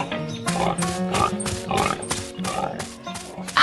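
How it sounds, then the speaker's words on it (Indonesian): Pink pigs play inside a wooden barn, grunting and oinking in a rhythmic series of close, fairly loud snorts and squeals that repeat about every half second. "Babi-babi berwarna pink sedang bermain ria di dalam gudang kayu."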